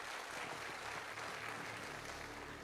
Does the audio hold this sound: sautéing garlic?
no